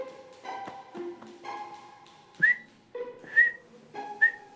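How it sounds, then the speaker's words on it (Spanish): A person communicates only by blowing a police whistle, giving several short rising tweets and warbles in an uneven sequence, close and fairly loud, with no speech. "A partir de ahora quiero que se exprese solo mediante la ayuda de un silbato."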